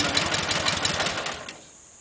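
A Dnepr motorcycle engine, after a cold start, runs with a steady, rapid putter close by, then cuts off abruptly near the end, leaving quiet behind.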